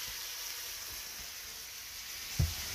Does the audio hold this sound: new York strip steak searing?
yes